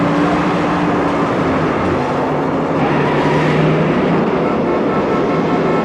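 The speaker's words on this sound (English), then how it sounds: "It's a car chasing an elevated train, after all." A continuous, loud roar of engines and rumbling elevated-train traffic, with a car motor straining beneath the clatter of the passing train it is chasing, in a film car chase.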